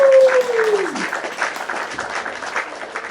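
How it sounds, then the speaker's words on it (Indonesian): A classroom of students claps together after an Indonesian language lesson, moderately loud and fairly even, with a brief tonal sweep fading out at the very start. "Tepuk tangan dulu."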